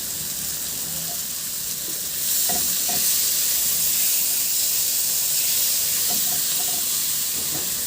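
Chicken and tomatoes sizzle loudly in a pan as they are stirred, giving a continuous hissing fry with occasional scraping clicks. The sizzle swells louder a couple of seconds in.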